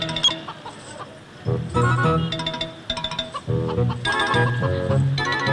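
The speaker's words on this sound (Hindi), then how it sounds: "बड़ी मुर्गी के साथ छोटी मुर्गी" Hens clucking in bursts over a busy musical backing, with repeated short calls standing out loudly at intervals.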